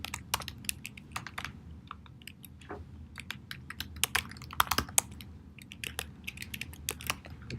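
Fast, uneven keystrokes on a computer keyboard as a test email address is typed into a web app login screen, a close, quiet clatter of taps and clicks with no voices.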